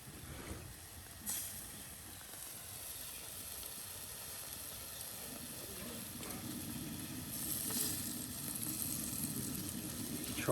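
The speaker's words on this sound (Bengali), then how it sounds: "আর এই যে টাকি মাছগুলো এখন দিয়ে দেওয়া হচ্ছে, মশলা মাখানো টাকি মাছ কত সুন্দর করে কিন্তু রেখে দেওয়া হয়েছে।" Spiced taki (snakehead) fish fries in a pan with a soft, steady sizzle that builds louder toward the end, broken by a few brief clinks and scrapes.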